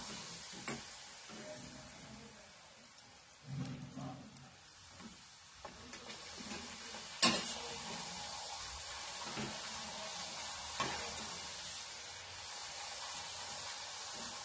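Maharashtrian kadakani frying in hot oil on a gas stove over medium to low heat. A steady sizzle and hiss holds throughout, broken by a few stirring scrapes and small pops, close and fairly quiet, with no speech.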